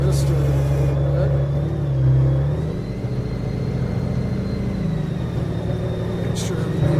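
A Honda Valkyrie motorcycle engine runs steadily at close range, a low droning rumble that shifts slightly in pitch partway through as the rider sets off on a neighborhood ride.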